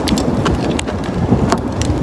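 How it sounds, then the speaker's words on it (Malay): Rain comes down steadily during a stay in Jordan, a dense close patter of drops hitting surfaces throughout, with no one speaking. "Hujan guys."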